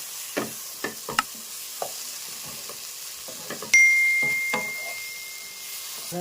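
Spice paste frying in a pan for a rui fish curry, scraped and stirred with a spoon in irregular strokes over a low sizzle, with a metallic ring from the pan midway, no talk.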